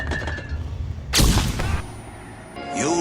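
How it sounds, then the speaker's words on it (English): A flashbang grenade going off in the 2004 game Far Cry, a sudden loud blast followed by a short ringing, reverberant tail, after some light clicks, with a rising tone at the end. "Throwing flashbang."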